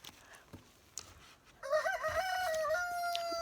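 A rooster crows nearby, one long, loud cock-a-doodle-doo rising after a few scattered thumps and quiet background sounds, then holding steady to the end.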